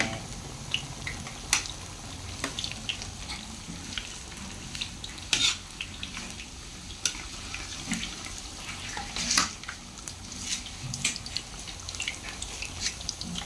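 Saba banana slices frying for maruya in a hot pan, a dense continuous crackling sizzle with scattered sharp pops and a few louder spatters, close and steady with no talk.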